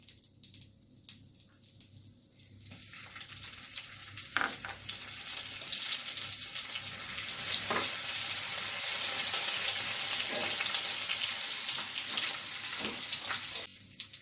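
Half a spoon of small cumin seeds dropped into two spoons of hot oil, crackling and sizzling steadily and close by, growing louder and fuller after a quiet start, with no voices over it.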